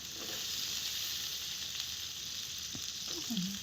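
Val peas dropped into hot oil, with a close, steady sizzle and crackle of frying and a brief stir near the end.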